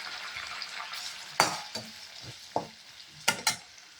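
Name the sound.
onion and green chili frying in melted butter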